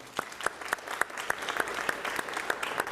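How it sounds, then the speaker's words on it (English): A Sunday service crowd applauds retiring emeritus chaplains, with brisk, dense clapping and a few loud, near, regularly spaced claps standing out throughout. "Let's give them applause, please."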